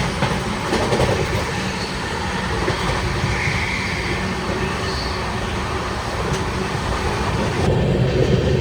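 The Tamil Nadu Superfast Express runs on the rails with a loud, steady rumble from inside the coach. Faint rhythmic clatter of the wheels runs through it, and there is no talk.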